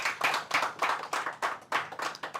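An audience clapping for a man at a mentee testimony session, a brisk run of sharp, close hand claps in a quick rhythm, with no talking.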